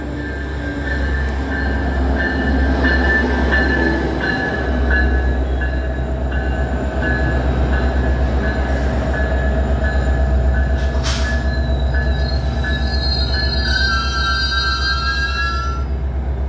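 A metro train rolls into a station and pulls away again on a line running from Chicago toward Antioch, loud and close, with a steady rumble and high wheel squeal rising near the end.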